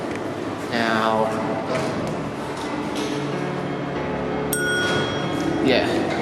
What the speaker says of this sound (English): yeah, as you heard, it has the mechanical chime